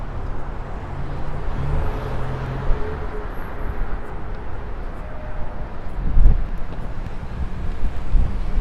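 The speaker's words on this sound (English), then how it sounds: "Look at that wind. It's a good test of the microphone right here." Gusty wind buffets a microphone outdoors along a railway path in Toronto, a steady roaring rumble with bursts of low buffeting, one louder gust near the end, no talking.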